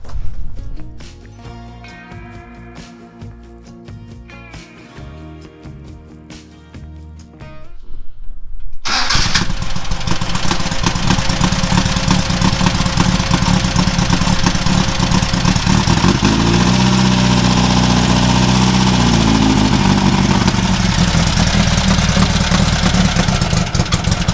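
A vehicle engine on a trailer cranks over, catches and settles into a loud, steady idle that rumbles on to the end after a quieter stretch of faint music and clatter.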